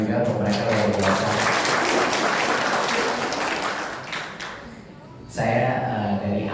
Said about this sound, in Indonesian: Tepuk tangan juga untuk mereka, luar biasa.